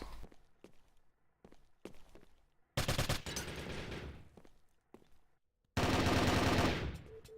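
Rapid MX machine-gun fire in a 3v3 tournament video game match, with two loud sustained bursts of automatic shots between sparse single clicks and footstep-like thuds, no talking.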